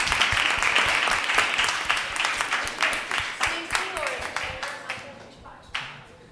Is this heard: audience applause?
yes